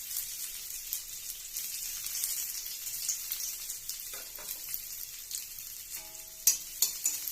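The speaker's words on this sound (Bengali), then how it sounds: "এরপরে আমরা কড়াতে প্রথম আবার তেল দিলাম, পরে কেটে রাখা পেঁয়াজগুলো আস্তে আস্তে দিয়ে দিচ্ছি" Chopped onions fry in oil in a kadai with a constant close sizzle; toward the end, louder stirring scrapes and clinks of a spatula against the pan break through.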